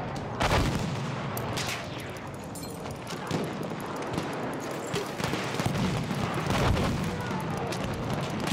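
Battlefield 1 combat fills the scene with dense, loud bursts of gunfire and booming explosions over a steady battle rumble, with scattered sharp shots throughout.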